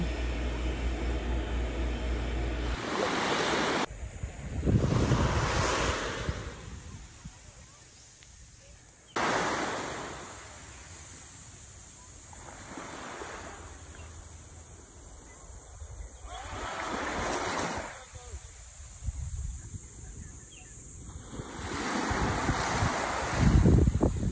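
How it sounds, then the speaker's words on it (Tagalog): Calm surf washes onto the beach at Anvaya Cove in slow, recurring swells under a strong, steady rush of wind buffeting the microphone. "And ayan yung waves. Napakakalmado lang."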